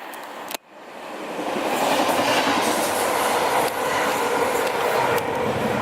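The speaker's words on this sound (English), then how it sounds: "Train coming." A train rolls steadily across a bridge in Chester, UK, a broad sustained rumble with faint rhythmic clatter that swells in after a brief cut and holds close and loud to the end.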